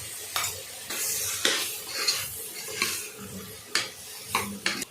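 Vegetables, including eggplant with turmeric and pepper, sizzle in a pan with a steady hiss while cooking cowpea curry, punctuated by repeated scraping stirs of a utensil against the metal.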